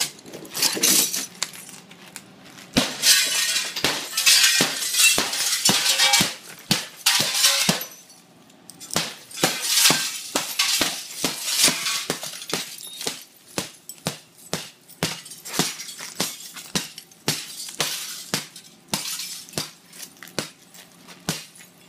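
Impact-rated security glass struck again and again at close range, a rapid run of sharp, ringing blows with brief pauses between bursts and no talk.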